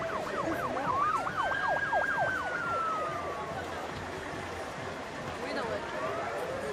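Emergency vehicle sirens wail in rapid rising-and-falling sweeps on a street in Molenbeek, Brussels. Two overlapping sirens sound at moderate distance, then fade into a low background murmur.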